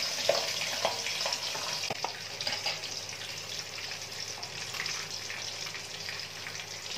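Pabda fish frying in hot oil in a pan, a steady broadband sizzle and crackle with scattered pops, fairly close and continuous throughout with no talking.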